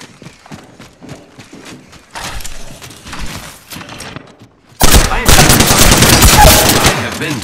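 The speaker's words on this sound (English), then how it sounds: "Opening fire." Rapid gunfire in the Apex Legends game, quieter bursts of shots at first, then a sudden loud, sustained stretch of automatic fire close by in the second half.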